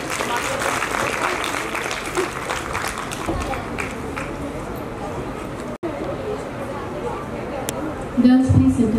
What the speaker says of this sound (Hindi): तालियों से उनका सम्मान कीजिए।